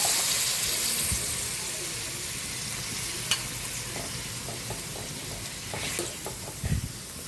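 Sotanghon noodles are stir-fried with ground meat in a pan, giving a steady close sizzle with scraping stirs and a few clinks of utensils, and no voice over it.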